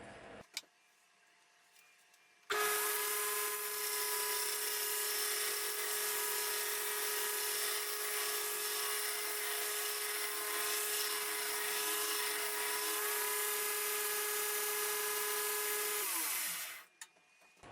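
A motorized grinder holds a steady whine with a pitch that stays level while bevels are ground on a knife blade, close and loud, starting abruptly after a quiet lead-in and winding down near the end.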